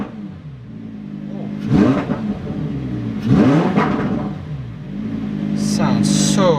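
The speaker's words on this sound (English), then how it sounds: "Rev it up in Corsa mode." A Lamborghini engine in Corsa mode revs hard in two sharp, rising bursts that fall away, then a third rev builds toward the end, loud and close over a steady idle rumble.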